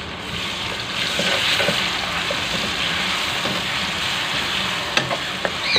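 Ginger garlic paste sizzles hard in a pan with browned onions for keema aloo, a steady, close frying hiss with faint stirring scrapes and a couple of light clinks near the end.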